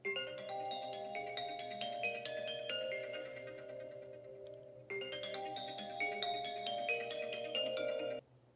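A new alternate version of the iPhone Reflections ringtone, gentle and electronic, plays a flowing pattern of bell-like notes over a held tone, repeating twice in a row with no voices.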